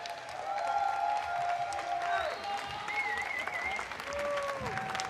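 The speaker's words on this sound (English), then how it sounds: "A big round of applause for all of our YouTube creators, guys." Sustained applause and some cheering from a crowd at the Clash Royale King's Cup grand final, steady and moderately distant.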